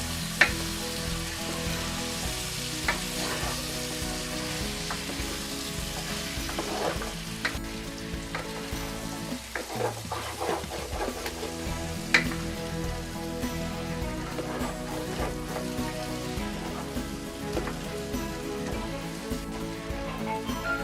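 Chopped tomatoes fry in a pan for chicken curry, sizzling steadily throughout, with occasional scrapes and clinks of a spoon stirring through them, close and fairly loud with no voices.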